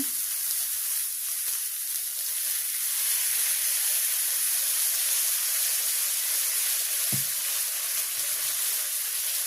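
Eggs seasoned with salt and turmeric frying in mustard oil in a village kitchen, a steady close sizzle and hiss throughout, with a brief soft knock near the end.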